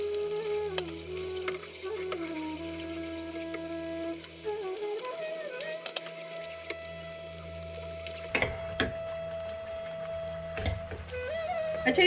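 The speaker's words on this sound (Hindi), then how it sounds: "इसमें मैं डालूंगी 1 टेबलस्पून के करीब ऑयल और फिर ये टमाटो सॉस इसमें डाल दूंगी।" Tomato sauce poured into about a tablespoon of hot oil in a pan, giving a steady sizzle and fry with a sustained tonal hum underneath and a few sharp clatters near the end, no talk.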